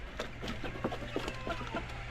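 Sick chickens cluck in short, repeated bursts close by, with several birds overlapping against a steady low background hum.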